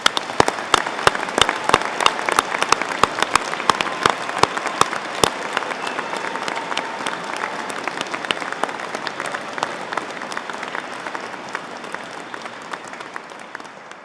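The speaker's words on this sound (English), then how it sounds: "give you one last round of applause to congratulate you on such a great achievement" A large awards ceremony audience applauds loudly and steadily, dense clapping that holds for a long stretch and then slowly tapers off at the end.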